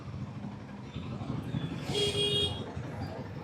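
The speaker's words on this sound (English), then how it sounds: "Man, this traffic moves so slow." Slow city traffic on a road near a flyover, with a steady engine rumble and a brief car horn honk rising in the middle, heard from a motorcycle rider's position.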